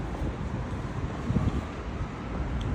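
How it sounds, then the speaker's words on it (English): Wind gusts outdoors on a windy morning buffet the microphone with a continuous low rumble and no other sounds standing out. "So the weather is a little bit windy"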